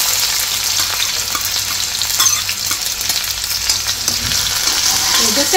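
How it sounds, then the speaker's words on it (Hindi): Onion frying in hot oil with cumin, a loud continuous crackling sizzle with scraping from stirring and a low steady hum underneath. "थोड़ा जीरा तो मैंने डाल दिया अब ये प्याज डाल देंगे"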